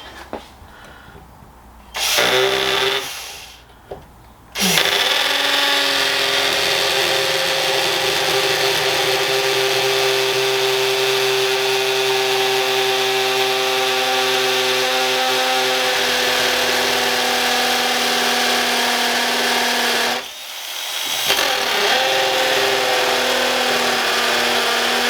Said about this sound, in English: the drill was going in the wall then